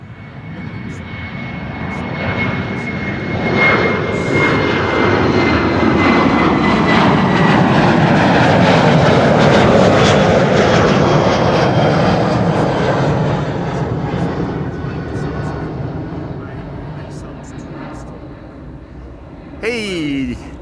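An airliner takes off from the Kaagbaan runway at Amsterdam Schiphol, its engine roar building from a distance, peaking loud and broad with a whining tone, then slowly fading away, while people talk over it.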